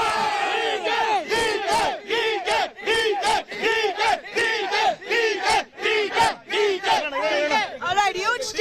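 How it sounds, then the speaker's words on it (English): A large crowd roars and chants in rhythm for DK Shivkumar after the Karnataka election results, loud voices rising and falling in repeated bursts, dense and continuous. "huge cheer for DK Shivkumar as the Chief Minister"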